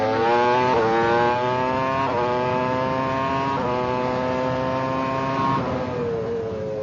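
A Formula One racing car engine revs hard on a track, climbing in pitch through several gear changes in steady repeated sweeps, loud and close throughout with no talk.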